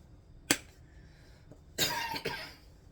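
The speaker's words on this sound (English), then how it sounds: "That suddenly got a dry cough, I tell you." A single dry cough, then a longer rasping cough a moment later, close by with faint background noise and no talking.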